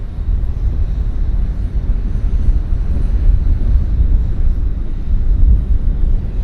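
A WestJet airliner at Vancouver Airport gives off a loud, low rumbling roar that stays steady throughout, buffeted by wind noise, with no voices.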